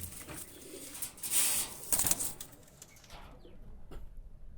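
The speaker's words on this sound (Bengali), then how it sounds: "কবুতারটা ছেড়ে দেখাচ্ছি দেখেন" A male Pakistani high flyer pigeon is let go and flaps its wings in a quick, close burst of papery beats, then the fluttering fades into quiet outdoor air.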